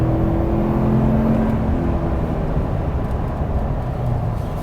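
A 2022 Toyota Tundra pickup accelerating hard, a steady, loud engine drone with road and wind roar heard from inside the cab, holding constant for several seconds with no talking.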